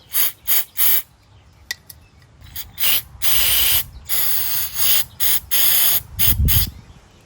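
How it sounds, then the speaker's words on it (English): Short hissing bursts of Mass Airflow Sensor Cleaner sprayed onto the sensor of a 2014 Mazda CX-5 during throttle body cleaning, about a dozen close, loud spurts of varying length separated by brief pauses, with no talking. "for the sensor, we're gonna use this cleaner, Mass Airflow Sensor Cleaner"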